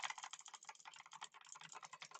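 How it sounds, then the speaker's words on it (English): Rapid, continuous clicking of taps and keys during a session of Cookie Run: Kingdom, close and fairly quiet, running steadily without a break and with no voices over it. "You will hear the clicking because"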